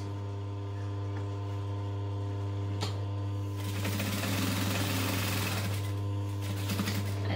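A sewing machine stitches up the side seam of a fabric backpack, starting with a sharp click, then running in a steady rapid whir that grows louder over a constant low electrical hum.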